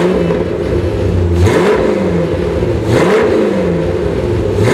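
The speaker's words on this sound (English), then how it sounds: "I'm holding the wheel right now and the car is running." A 1997 Chevrolet Corvette C5 with a Borla exhaust idles close with a deep burble, then revs up sharply twice and falls back, loud and throaty.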